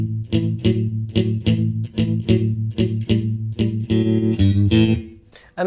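A simple blues rhythm part on electric guitar with a distorted, chorus-tinged tone, strummed in short, evenly spaced chord stabs with a repetitive shuffle feel, loud and close, ending on a brief scrape.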